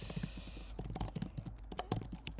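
Quiet, close typing on a computer keyboard while writing C# code, with irregular clusters of light key clicks and brief pauses.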